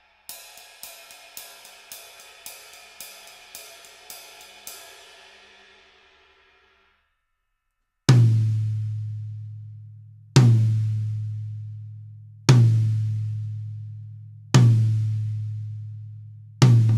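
Vater Blazer acorn-tip drumsticks tap a ride cymbal in a quick even pattern that rings out and fades. Then come five evenly spaced heavy drum hits, each booming and decaying before the next.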